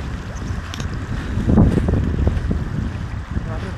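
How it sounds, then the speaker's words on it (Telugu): River water rushes steadily in cold weather, a broad, loud churning roar with gusty wind buffeting the microphone, swelling slightly midway through. "వాటర్ ఫ్లో కూడా బాగానే ఉంది."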